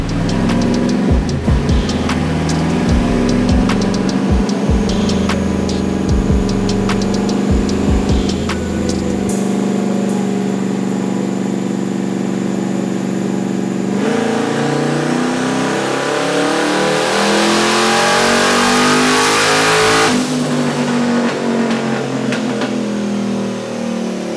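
A 4x4 truck's engine revs hard and continuously during fuel map tuning, loud and close, with pitch climbing and falling through sustained pulls and no voices.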